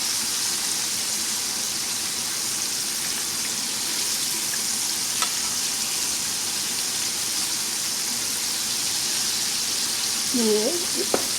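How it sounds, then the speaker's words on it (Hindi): Pieces of fish frying in hot oil over a medium-low flame for fish and chips: a steady, dense sizzling hiss that holds for the whole stretch, with a faint brief tonal sound near the end. "और जितने मछली के पीसेस हैं उनको इस तरीके से करके और ऑयल में डालना शुरू कर दिया।"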